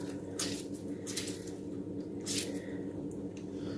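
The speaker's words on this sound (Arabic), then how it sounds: "واعصر نص ليمونه كبيره" Half a large lemon is squeezed by hand over seasoned beef, giving faint soft squishing and a few brief wet squirts over a low background hum.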